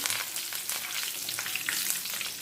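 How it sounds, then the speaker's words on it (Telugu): Curry leaves crackle and sizzle in hot oil with chana dal and cumin during tempering for stuffed snake gourd, a steady close frying hiss throughout with sharp bursts and no talking. "ఇప్పుడు కొంచెం కరివేపాకు వేస్తాం కదండి"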